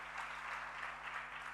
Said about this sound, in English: So we have a big round of applause to all the stars.